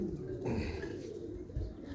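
Pigeons kept in a loft coo in low, throaty murmurs that roll on steadily through the whole moment, close by and fairly loud, with a faint rustle behind them.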